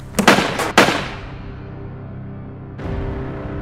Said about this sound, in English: And with just a couple warning shots,